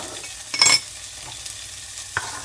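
Onions and minced garlic frying in a pan make a steady, soft sizzle close by, broken by a couple of brief scraping stirs of the utensil.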